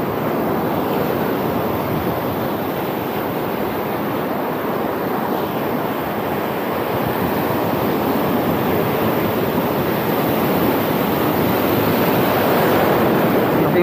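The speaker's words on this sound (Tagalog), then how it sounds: "Ang problema ngayon guys, ano, masyadong malalaki yung alon." Large ocean waves crash and surge onto a shore in a steady, loud, continuous roar with wind noise buffeting the microphone, beside a surf-fishing spot, with no voices over it.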